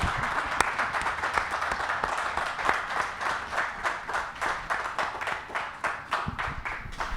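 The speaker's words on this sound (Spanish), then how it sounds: "Un fuerte aplauso para ti, Margarita." Steady audience applause for a speaker at a literary event, dense overlapping handclaps at even strength for the whole stretch with no talking.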